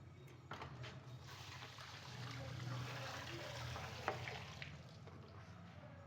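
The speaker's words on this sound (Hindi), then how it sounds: "अब पानी डालते हैं" Water is poured into sugar for a sweet sabeel drink served during Muharram, producing a soft, steady trickle and splash that runs for several seconds at low volume, with faint handling noises.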